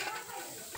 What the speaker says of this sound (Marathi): तर चला आता आपण पहिला कांदा परतून घेऊ